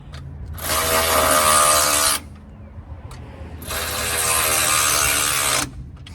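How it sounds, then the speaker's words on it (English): A ratchet or power ratchet tightens shock bolts on a 2001 Ford F150 in two sustained loud bursts of rapid clicking whir, each about one and a half seconds long, separated by a short pause. "Let's get those bolts tightened down."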